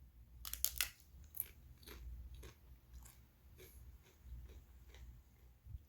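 Crunchy Doritos Mellow Ribs flavor chips being bitten and chewed close to the mic, a cluster of sharp crunches early on followed by softer, irregular chewing bites over a low background hum.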